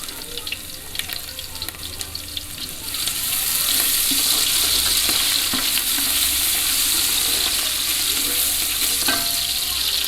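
Loud, steady sizzling of ginger garlic paste frying in a hot pan, with scattered clinks and stirring; the hiss swells after a few seconds and continues.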